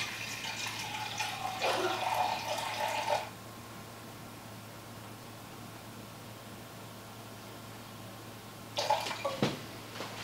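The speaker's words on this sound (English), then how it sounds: "let me pour up a half a cup of water" Half a cup of water poured for a patriotic Jello poke cake, two short splashy bursts of pouring at the start and near the end with a quiet steady hum between, close and moderately loud.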